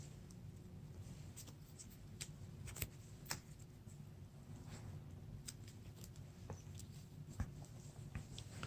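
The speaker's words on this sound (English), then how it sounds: "shuffle in counter decks" Counter-card decks for The Lord of the Rings card game are shuffled close by at low volume, with soft irregular riffling, sliding and tapping of cards over a quiet background.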